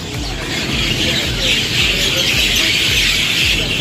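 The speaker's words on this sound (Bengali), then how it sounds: "একটু শুনেন পাখির কিচিরমিচির সাউন্ড" Birds chirp amid the tall buildings of Singapore city, a dense, constant twittering layered over steady urban background noise.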